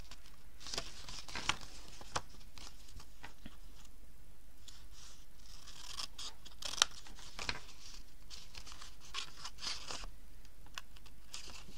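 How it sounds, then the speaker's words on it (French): Scissors cut through paper for an advent calendar craft, a run of close, crisp snips and rustling crunches repeating irregularly, fairly quiet, with no talking. "je vais faire avec une paire de ciseaux"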